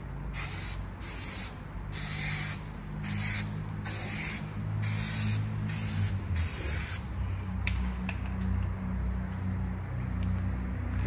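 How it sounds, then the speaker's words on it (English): Repeated hissing bursts of a spray paint can painting a car, short rhythmic sprays followed by a longer continuous spray, close up. "you spray painted everything."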